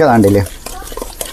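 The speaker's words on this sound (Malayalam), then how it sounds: "നല്ലതുപോലെ അങ്ങോട്ട് മിക്സ് ചെയ്ത് കൊടുക്കുക" A spoon stirring a sweet mixture with rock sugar candy melting in a pan, a few quick clinks and scrapes right after a short spoken phrase.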